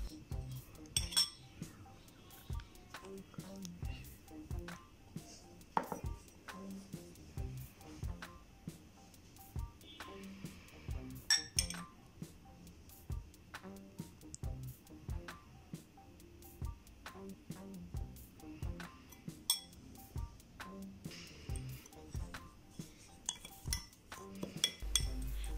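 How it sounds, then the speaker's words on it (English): A utensil mixes toothpaste ingredients in a small dish, giving repeated light clinks and scrapes against the dish in an irregular rhythm, close and moderately quiet. "Now, mix all the ingredients very well."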